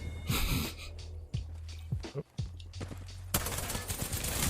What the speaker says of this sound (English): got someone shooting me from behind